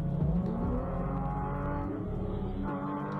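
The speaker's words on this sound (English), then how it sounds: "listen to the Porsche though" A Porsche engine pulling hard while racing alongside a BMW F90 M5: a loud, sustained low roar with a rising tone as it revs, close and continuous, with no talking.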